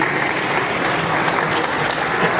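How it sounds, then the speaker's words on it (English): An audience at a GenAI summit panel on venture investing in San Francisco applauds the panelists, a dense, steady wash of clapping filling the room throughout. "let's give a round of applause to the panelists."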